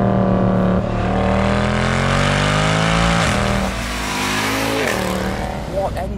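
A Mercedes-Benz C63 AMG with its 6.2L V8 revs loud and close, its deep, rising engine note climbing and falling in repeated surges while a voice talks over it.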